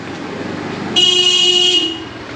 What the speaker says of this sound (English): Honking is very common over here